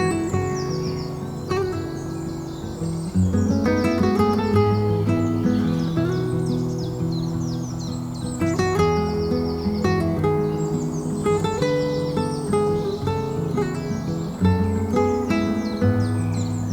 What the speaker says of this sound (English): I've just heard some bird noise from this platform here at the top of some steps